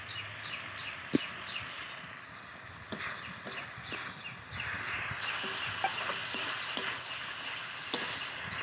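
Spice masala with salt frying for a village-style green jackfruit (kathal) curry: a steady low sizzle and hiss, with rooster and bird calls in the background.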